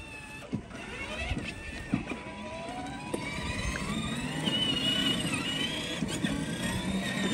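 A remote-controlled children's toy car drives outdoors with a thin electric motor whine and light clatter, as rain begins. Soft voices talk nearby.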